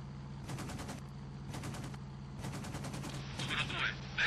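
Bursts of fighter-plane machine-gun fire from an Italian Saetta MC200 in IL-2 1946, several rapid rattling volleys of fairly loud gunfire over a steady engine drone, with a voice talking alongside.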